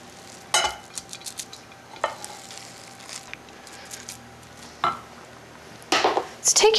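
A spoon presses cooked millet into a baking pan with scattered soft scrapes and taps, spaced a second or so apart, and a louder burst of scraping near the end, close and fairly quiet.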